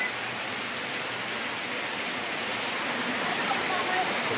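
A dense, constant hiss of heavy rain pouring down, steady and enveloping with no breaks, fairly close.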